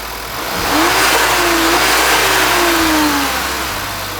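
A 2014 Volkswagen Tiguan engine turns over and catches, then revs up to a loud, steady roar before easing back down, close by, after an oil cooler repair.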